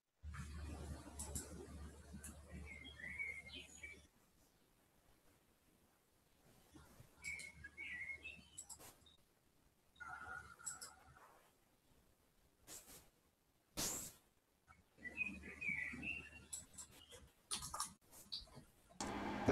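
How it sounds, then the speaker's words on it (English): Birds chirp and twitter faintly in the background in short scattered bursts, mixed with clicking and low noise, and some stretches fall almost silent. "Nice birds in the background there."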